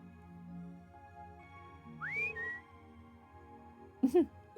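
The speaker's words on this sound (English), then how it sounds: "Innocent whistle." A character in the video game The Legend of Heroes: Trails of Cold Steel gives a short, rising innocent whistle, followed by a brief second whistled note amid quiet game background sounds.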